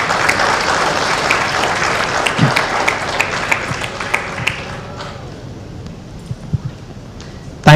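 An audience at a literature festival breaks into loud, sustained applause with dense overlapping claps, which gradually thins and softens over the last few seconds.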